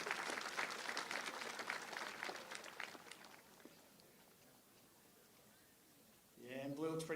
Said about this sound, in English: Round of applause again for Blue.